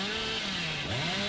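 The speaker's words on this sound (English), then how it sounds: "You can also break pallets and breakable walls with your chainsaw" Hillbilly's chainsaw in Dead by Daylight, a loud continuous buzzing engine drone whose pitch dips and rises again as it revs, close and steady with no talk.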